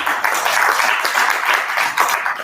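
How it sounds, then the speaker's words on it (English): An audience at a STEM roundtable applauds a professor after a presentation, a dense, steady wash of many hands clapping together, close and fairly loud throughout. "A round of applause for Professor"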